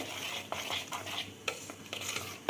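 Instant idli batter being whisked in a bowl, a soft continuous swishing with light clinks of the utensil against the sides, close and fairly quiet.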